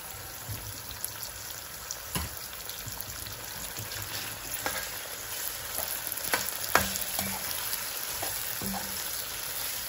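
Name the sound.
beef frying in oil with onions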